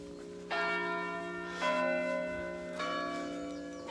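A church bell rings on a bank holiday with three separate strikes, each ringing on and fading slowly, moderately distant and fairly quiet with no talk over it.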